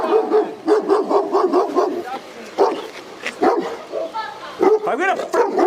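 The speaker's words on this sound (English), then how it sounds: "Dog issue, I'll take the dog." A dog barks in rapid repeated bursts, close and loud, during a police response, with a voice talking over and between the barks.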